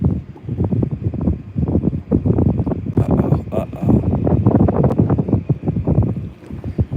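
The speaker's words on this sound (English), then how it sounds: "Shoot, this wind is getting me." Wind buffets a microphone while bass fishing from a boat on Lake Lanier, a loud, gusting rumble and flutter that swells and dips throughout, with muffled talk mixed in.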